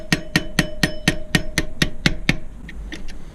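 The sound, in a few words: hammer driving out brake pad axle pin, Husqvarna WRE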